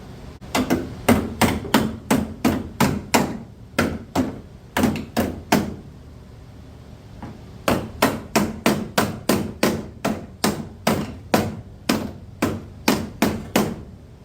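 Sharp metallic hammer blows strike a 1967 Corvair's car body panel in quick rhythmic bursts, a pause in the middle, then another steady run of loud clanging hits.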